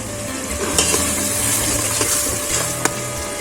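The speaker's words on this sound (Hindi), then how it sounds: "अब प्याज को हम थोड़ा सा फ्राई कर लेंगे" Ground onion fries over medium heat in a pan, giving a steady, close sizzle with occasional soft stirring clicks and scrapes throughout.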